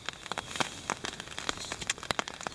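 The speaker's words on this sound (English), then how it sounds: "It's cold, it's raining" Rain falls on a riverside camp as scattered, irregular patters and crackling drops striking a nearby surface, soft overall with sharp individual hits and no voices.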